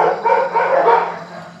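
A Cane Corso barks and whimpers at close range, a few loud, strained vocalizations running together over under two seconds, with no talk.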